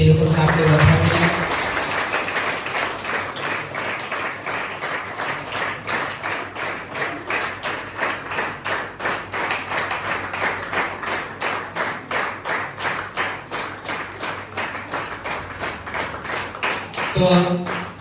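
Sustained rhythmic clapping from an audience at a church event honouring guests, many hands beating in unison at a steady quick pulse for well over ten seconds, with brief talk at the start and end.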